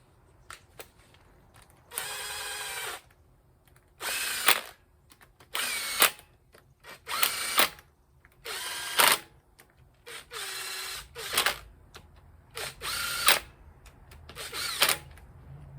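A power tool with a socket spins down rocker arm bolts during final engine assembly on a 1951 Buick Special, heard as about nine short, loud whirring bursts separated by brief pauses.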